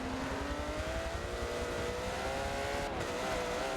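A TVR race car in a sim racing game howls past at full throttle, a steady, loud engine drone with rising pitch and a brief gearshift dip, without speech.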